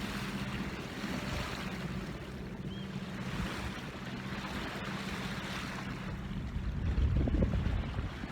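A sailboat runs under engine power at sea off Anglesey on a summer day. A steady low motor hum sits under continuous wash of water and wind buffeting, with louder churning surges near the end.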